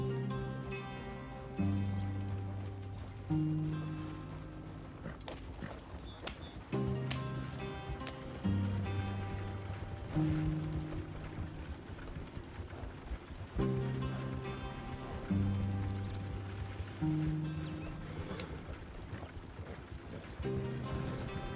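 Horse hooves gallop steadily in Red Dead Redemption 2, a rhythmic clip-clop pattern repeating in phrases across the whole stretch, moderately close and even, over a soft background of game sound.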